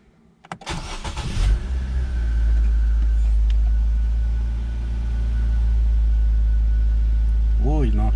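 Nissan HR16DE engine cranking after a spark plug change, a brief starter whir that catches and settles into a smooth, steady idle, close and fairly loud, with a voice briefly near the end.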